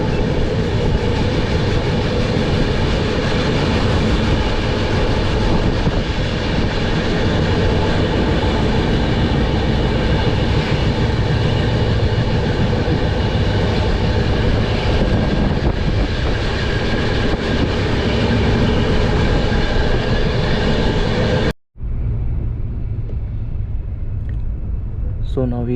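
Nanda Devi AC superfast express, Dehradun to Kota, running at high speed: a loud, steady rolling roar with wheel rumble close by for about 21 seconds, then it cuts off abruptly to a quieter interior hum.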